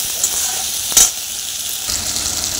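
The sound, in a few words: chopped tomato frying in a pan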